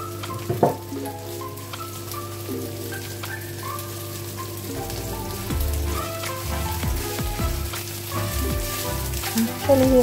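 Kebab frying in a pan, a steady close sizzle with crackling pops running throughout, a stirring tool scraping the pan now and then, and no talk.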